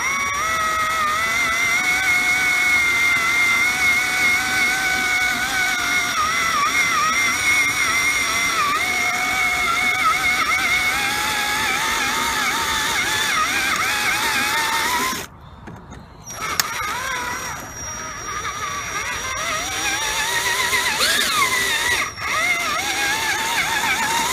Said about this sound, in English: I'm going to drill this until it's flat with these mounting surfaces here.